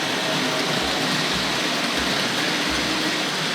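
A Tri-ang Hornby Railway Children model train runs around a layout at a model railway exhibition, a steady faint whirring hum with soft rhythmic low clicks of the wheels over rail joints beneath constant hall noise.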